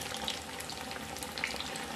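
Sabudana potato vadas frying in hot oil, a steady quiet sizzle and crackle with occasional small pops, close and alone.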